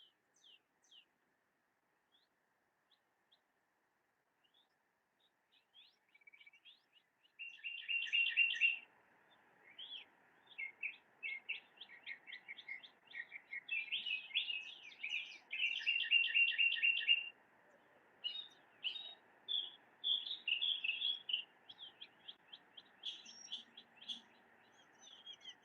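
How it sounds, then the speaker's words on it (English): Birds singing and chirping, faint at first and then a lively, overlapping chorus of high, rapid tweets and trills continuing steadily over quiet background noise. "all these birds are very nice to hear, indeed"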